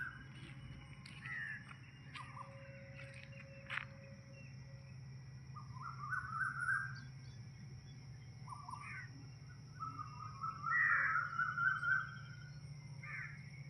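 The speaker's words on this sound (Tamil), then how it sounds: "பறவைகள் சத்தம் பாருங்க காலையில்." Crows caw in the morning outdoors, scattered harsh calls at moderate distance over a low steady hum, with faint chirps from other birds and no talk.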